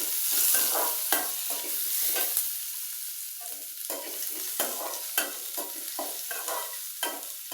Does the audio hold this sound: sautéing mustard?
yes